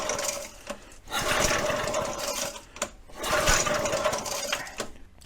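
Gas-powered SCUBA compressor engine running rough and misfiring, a loud, close mechanical chatter in two sustained stretches broken by sharp pops and brief dips.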